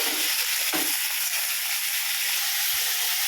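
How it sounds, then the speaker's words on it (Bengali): Chicken pieces frying in hot oil with whole cumin seeds in a wok, giving a steady, loud broadband sizzle that continues throughout with no talking. "প্রথমে আমার তেল কড়াইতে তেলটা গরম হয়ে গেছে তার মধ্যে আমি একটু গোটা জিরা ফোড়নে দিয়ে আমি মাংসটাকে প্রথমে দু তিন মিনিটের মতন করে ভেজে নেব"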